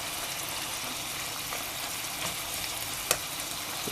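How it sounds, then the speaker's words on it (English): Bacon fat frying in a loaded pan, a steady broadband sizzle and crackle at moderate level with one sharp pop near the end, heard alone without talk. "We're gonna fry down all of that fat"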